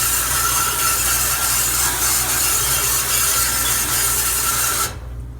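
Scrubbing brush working over a refrigeration unit part, a steady loud rasping rub that continues for about five seconds and then stops abruptly.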